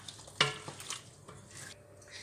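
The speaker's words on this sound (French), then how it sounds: "Donc on mélange bien pour que ça aille aussi en dessous de la viande." A spoon stirs blanquette de veau with bay leaf and thyme in a pot, giving a sharp clink against the metal followed by soft wet scrapes and light sizzling, close and quiet.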